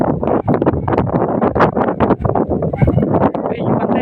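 Gusty wind buffets the microphone beside a river where milkfish are being caught, a steady rough roar with rising surges that fill the whole clip.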